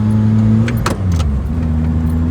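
A Lotus Elise with a tuned 2ZZ-GE engine cruises at low revs, its steady engine hum droning loudly from inside the cabin, with a brief rattle partway through.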